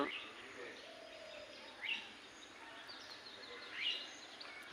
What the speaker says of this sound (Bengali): কাকডাকা বোর চারিদিকে পাখিদের কিচির মিচির শব্দ